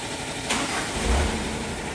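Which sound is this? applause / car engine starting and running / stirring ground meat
car engine starting and running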